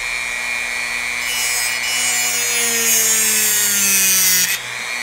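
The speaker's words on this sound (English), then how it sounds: "And then I'm going to take my cutoff wheel" A cutoff wheel grinds through a metal part of a gliding parachute assembly, giving a loud, steady high-pitched whine that rises as it bites and then cuts off abruptly near the end.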